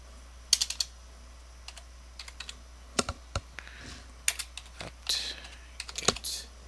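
Terminal commands typed on a computer keyboard while setting up an Ubuntu machine: irregular bursts of crisp key clicks and heavier keystrokes, close and fairly quiet, with a low steady hum underneath.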